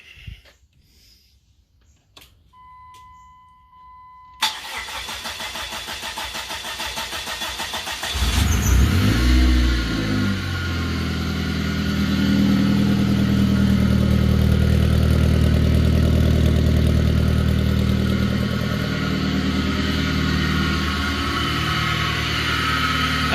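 A 1999 Dodge Neon, being revived after a bad hydrolock and fitted with a new harmonic balancer and alternator belt, clicks quietly, cranks, then catches and settles into a loud, steady idle up close.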